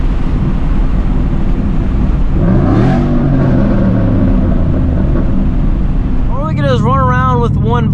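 A 2013 Mustang GT with straight pipes and a large hole in its muffler drones loudly and steadily, swelling briefly as the exhaust note rises, and a voice joins near the end.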